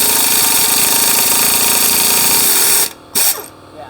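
A Capri CP33200 flex-head impact wrench runs in a loud, continuous rattling burst, close up, then cuts out briefly and fires once more before trailing off.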